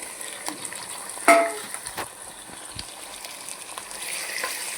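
Chicken tipped into a pan of softened onions: a sharp clatter, then a steady, quiet sizzle of frying with faint stirring clinks.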